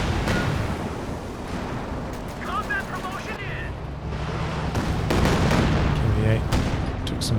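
Gunfire and artillery in a Company of Heroes 2 2v2 match, a continuous rumble of battle with scattered sharp shots and booms, a commentator talking over it.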